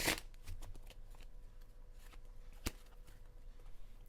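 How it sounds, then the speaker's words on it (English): A deck of tarot cards is shuffled steadily during a card reading, producing a soft, continuous papery riffle with a few sharper snaps, close up and with no talking. "I really like shuffling. I mean, I've shuffled this so many times."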